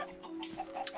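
Chickens cluck softly in the video game Minecraft, a few short low clucks over a faint steady background tone, quiet and alone.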